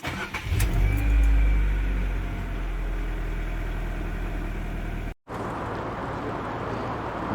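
Classic Ford Focus MK1 cars circling at an owners' club meet at The Great British Car Journey, with a loud engine rumble up close at first, then steady idling and passing engines in the background.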